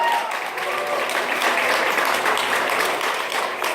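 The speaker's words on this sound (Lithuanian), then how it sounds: "dabar jau galima audringais plojimais palaikyti sportininkus" Crowd at a bodybuilding contest applauding the athletes during a class comparison, dense continuous clapping filling the hall, with a faint voice underneath.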